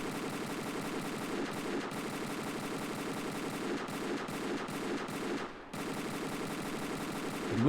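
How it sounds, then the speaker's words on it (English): Rapid, continuous Scorpion X gunfire in Tomb Raider: The Angel of Darkness, aimed at a flammable sign, a steady rattling stream of shots with brief gaps, fairly close and alone. "Lara's going to be aiming at that flammable sign that we saw, and you just want to shoot at it."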